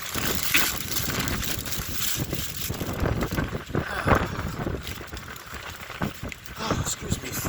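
A cold wind on a hilltop buffets the microphone with continuous rough, gusty rumbling throughout, loud and close, with faint voice sounds underneath.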